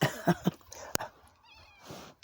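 A cat meows softly after a few bumps and a sharp click, close by, in an otherwise quiet room.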